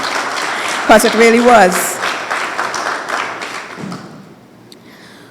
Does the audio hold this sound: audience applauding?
yes